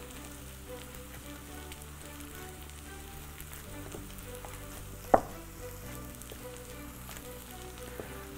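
Ground meat for köfte being kneaded by hand, a soft, steady, quiet squishing texture with one brief sharp knock midway and no talking.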